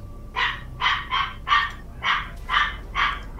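A dog barking in the Total War: Warhammer 2 strategy game, about eight sharp, evenly spaced barks in a steady rhythm, close and clear with no talk.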